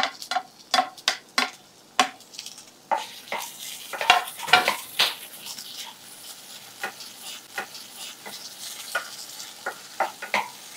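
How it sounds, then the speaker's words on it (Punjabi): Cumin seeds roasting in ghee with a light sizzle under a series of sharp metallic ticks and scrapes from stirring in the pan, close and irregular, no speech. "ਇਹਨਾਂ ਨੂੰ ਵੀ ਆਪਾਂ ਥੋੜਾ ਜਿਹਾ ਭੁੰਨਾਂਗੇ ਘਿਓ ਦੇ ਵਿੱਚ"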